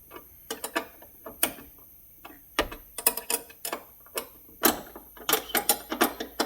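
A nut and bolt being tightened on a sagging Chevrolet Silverado door hinge, a rapid series of sharp metallic ratchet clicks in uneven bursts, close and distinct against a quiet background.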